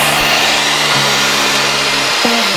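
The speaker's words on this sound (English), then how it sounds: "I'm gonna hit it with the hand mixer until they're fluffy" An electric hand mixer whipping eggs in a large mixing bowl until fluffy, a loud close steady motor whine that drops briefly in pitch near the end as the beaters shift, with no talking.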